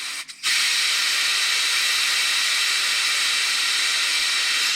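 Steam hisses loudly and steadily from the pressure release valve of a pressure cooker holding hot split pea soup, a continuous close roar that starts abruptly after a brief soft sound.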